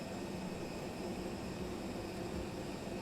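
Jet engines of an Airbus A32NX run steadily in Microsoft Flight Simulator, a constant broadband roar and hum with no breaks or talk.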